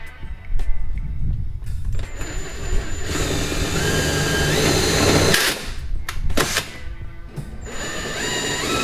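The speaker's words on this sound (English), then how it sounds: "it's as simple as just drilling a hole" A power drill whines steadily at close range, its motor pitch rising and falling as it bites through a Mitsubishi Evo 9 rear bumper, with brief pauses between bursts.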